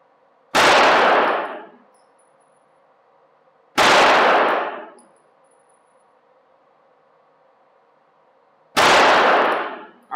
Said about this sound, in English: I'm going to shoot the bottom target so that you can see this on a clean target here.